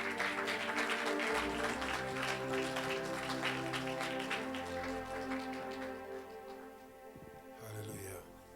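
A church audience applauds and cheers for Jesus, giving a broad burst of clapping that starts strong and slowly fades over several seconds, mixed with sustained voices and a musical tone underneath.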